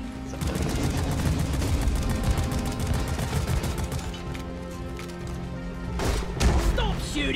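Rapid automatic gunfire in the sci-fi mining game Deep Rock Galactic, a dense stream of shots with heavy thuds and a louder burst of impacts near the end.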